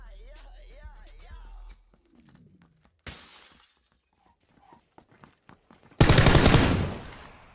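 Gunfire in the video game PUBG comes as a few sharp, brief cracks scattered through quiet game ambience, ending in a loud, dense burst of fire close up; no one speaks.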